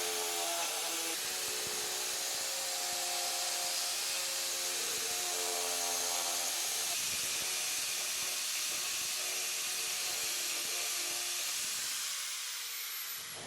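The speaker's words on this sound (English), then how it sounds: "go in deeper by carving straight down with the tool vertically like this" Arbortech TURBO Shaft power carver cuts down into wood with a loud, continuous high-pitched whine and hiss, steady with slight pitch shifts, fading toward the end.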